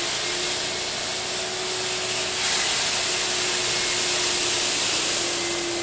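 Vacuum noise from a pneumatic grain sample conveyor carrying a sample back up to a hopper, a steady loud broadband whoosh with a constant tonal hum that rises slightly partway through, heard alone without talk.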